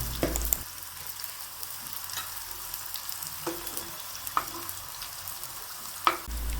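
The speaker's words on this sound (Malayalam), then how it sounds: "അതിലേക്ക് നമ്മൾ ആ മുറിച്ച് വെച്ച പൊറോട്ട ഓരോ പീസുകളാക്കി ഇട്ട് നമുക്കൊന്ന് വറുത്ത് പോരാം" Pieces of porotta frying in hot sunflower oil give a steady, close sizzle with a few sharper crackles and pops, with no voices.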